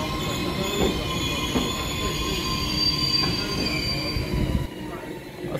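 A twelve-car EMU3000 Tze-Chiang express pulls out of Shulin, its wheels squealing in high, sustained tones over a steady rolling rumble, heard close and loud throughout.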